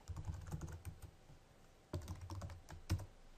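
Computer keyboard keys typed by hand while signing in, quick bursts of close clicking in two or three short runs separated by a brief pause, no talk.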